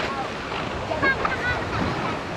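Sea waves wash and break along a shore in steady, broad surf noise, with wind buffeting the microphone and faint voices in the background.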